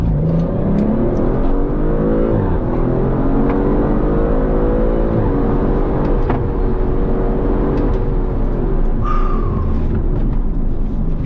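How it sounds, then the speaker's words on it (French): An Audi RS5-R ABT accelerating hard, its engine note climbing and roaring loudly up through the revs, with a brief shift break and more pulling, heard up close from inside the car. "Elle l'arrache, cette voiture."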